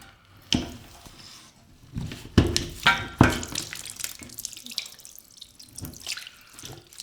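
Water gushing from a cut toilet supply pipe during a bathroom remodel, splashing and trickling in irregular surges, with sharp spatters early on that settle into a steadier drain and drip.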